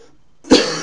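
A single close, loud cough bursts out after a near-silent start, from someone who is sick with a cold, with a raspy throaty tail and a second push starting at the very end.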